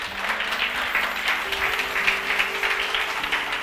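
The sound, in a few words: audience clapping hands during a sermon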